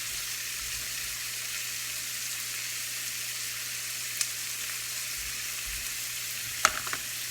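Garlic, peppers and celery frying in a pan, a steady soft sizzle running throughout with a couple of brief stir clatters near the end.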